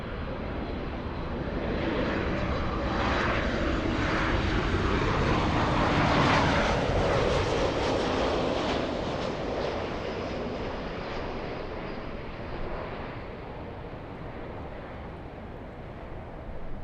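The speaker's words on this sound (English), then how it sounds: "JetBlue on the move. JetBlue 388 flying to Boston, Massachusetts. That's an A321." A JetBlue Airbus A321 airliner bound for Boston passes overhead, its broad jet roar swelling to a peak midway and then slowly fading, heard alone with no talk.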